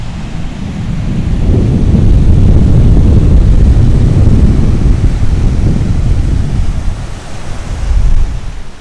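Sea waves rolling onto white sand at Praia da Alagoa beach in the Algarve, Portugal, a loud, continuous rumbling wash that swells and eases, with no talk over it.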